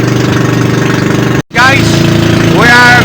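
Outboard boat engine running hard on an island-hopping trip in Zambales, a loud steady drone with a rhythmic pulse throughout, briefly cut out in the middle, with voices talking over it.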